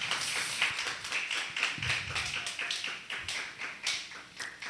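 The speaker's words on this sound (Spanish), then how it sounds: "Si vas a dar un aplauso, dáselo al Rey de Reyes y Señor de Señores." Congregation clapping in a church service, a steady dense patter of many hands close by, with no voices over it.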